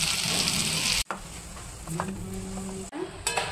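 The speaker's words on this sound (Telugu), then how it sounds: "ఈ కడిగినటువంటి చుక్క కూరను కట్ చేసుకొని ఈ నూనెలో వేయించేసుకోవాలి" Chopped chukka kura greens and green chillies fry in hot oil with a steady close sizzle, broken by a short gap near the middle and a brief rustle of stirring toward the end.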